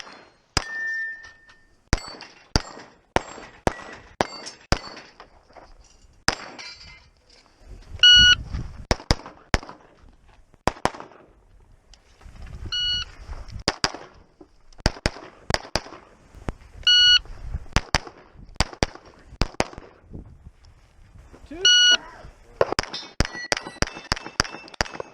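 Pistol gunshots at a low-light pistol match, fired from a compensated pistol with a slide-mounted red dot and weapon light: sharp cracks come in irregular strings and pairs with gaps between, some accompanied by electronic beeps.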